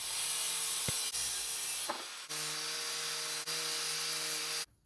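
A power tool cuts off a metal bracket piece on a Honda J32-swapped Porsche 944, giving a loud, sustained high-pitched grinding whine with a few brief dips in pitch and load before it stops abruptly.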